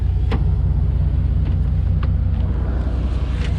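A lifted 2013 Chevrolet Silverado crew cab 4x4 runs with a steady, low engine rumble under light wind noise, with no voices.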